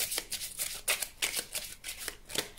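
A Lenormand card is drawn from the deck amid soft, repeated papery riffles and slides of shuffled cards, close and fairly quiet.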